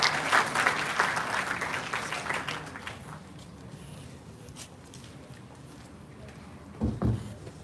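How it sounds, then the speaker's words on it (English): An audience at an engineering institute's HR conclave applauds the institute director, with dense clapping that starts strong and slowly thins out, then a few louder knocks near the end. "Please give a huge round of applause for our captain."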